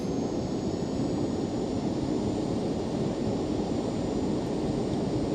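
Cessna Citation C525 jet engines at takeoff power in a flight simulator, heard as a steady, loud, continuous roar with a faint high whine, no voices.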